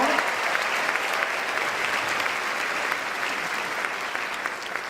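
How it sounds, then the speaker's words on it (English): A crowd gives dense, sustained applause for new teachers at the Magnolia ISD school convocation. The clapping rolls on steadily for the whole stretch at an even level. "Let's give them a round of applause wherever they"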